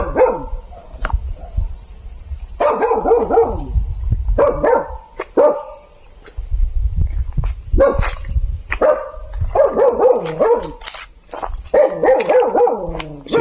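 A dog barks at night near a hut, in repeated bursts of loud, close barking broken by short pauses and occasional whimpers, with no talking over it.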